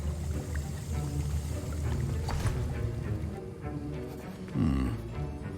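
Potion stirring in Hogwarts Legacy: a steady liquid swirl and gentle bubbling under soft ambient music, with a brief sloshing splash near the end.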